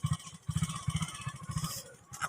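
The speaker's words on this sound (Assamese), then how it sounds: "বাইকখন আকৌ ষ্টাৰ্ট কৰিলো" A motorcycle restarted for riding gives a close, low, throbbing engine chug with rapid uneven pulses and some clattering.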